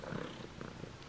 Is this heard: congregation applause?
no